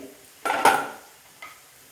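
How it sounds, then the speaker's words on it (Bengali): A spatula stirs sabudana pulao ingredients in a wok, two short scraping sweeps against the metal, the first longer and louder, close by with nothing else around them. "এই উপকরণগুলোকে আবার একটু খুন্তি দিয়ে নাড়াচাড়া করে"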